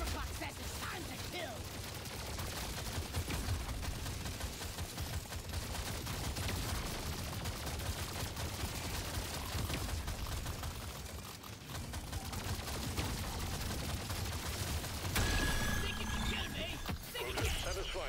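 Rapid, continuous gunfire from a carbine with a hugely boosted fire rate in Deep Rock Galactic: Survivor, a dense unbroken rattle of shots against swarming bugs lasting the whole stretch, with someone talking over it.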